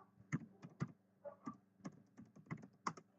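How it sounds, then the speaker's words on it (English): Keys clack on a computer keyboard as text is typed, a quiet run of separate taps in an uneven rhythm with short pauses, close up and alone. "I'm going to type some additional text"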